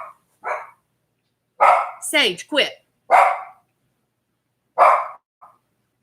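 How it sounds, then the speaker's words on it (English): A female dog barking indoors, loud and close, in several short bursts with pauses between them, while a woman scolds her between barks. "Why is she barking?"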